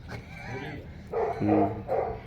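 A dog barks a few times at close range, short gruff yaps with a whimpering edge, with no one speaking.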